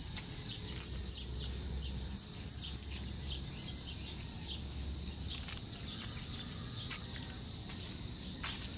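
Birds and crickets around a freshly planted rice paddy: a steady, faint high insect trill throughout, with a run of clustered bird chirps in the first few seconds and occasional distant calls.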